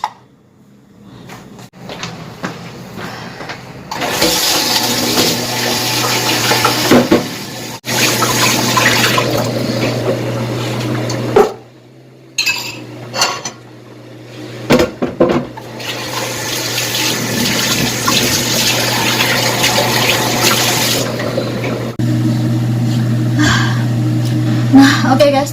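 Tap water runs steadily into a kitchen sink during dishwashing, a broad rushing stream with brief pauses and clinks as dishes are handled.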